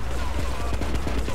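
An AK-47 fires in GTA 3 as a rapid stream of loud shots, evenly spaced and close, over a dense, noisy game background.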